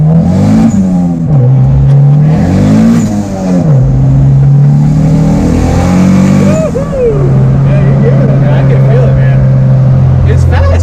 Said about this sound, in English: Turbo just kicks in and bye bye.